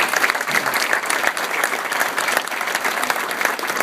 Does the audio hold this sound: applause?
yes